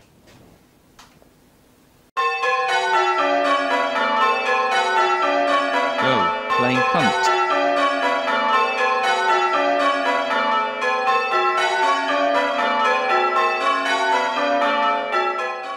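Sampled church bells mapped to MIDI ring together in a dense, sustained peal of overlapping tones after a quiet start. A voice briefly speaks over the ringing.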